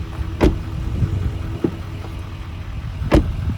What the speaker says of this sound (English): Listen to the sound of the doors here.